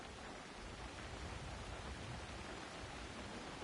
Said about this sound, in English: look, rain